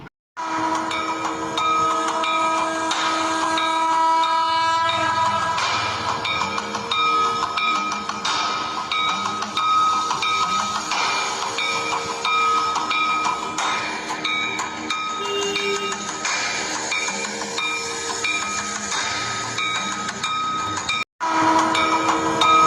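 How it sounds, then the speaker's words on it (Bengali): A passenger train rolls into Kharagpur station with a loud, continuous rumble and wheel clatter, sustained horn-like tones ringing over it, and a brief dropout near the end. "আমাদের ট্রেন"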